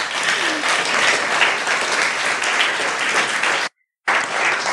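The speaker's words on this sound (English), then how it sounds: "Applause." A conference audience applauds in a dense, sustained wash of clapping that cuts off abruptly near the end before resuming.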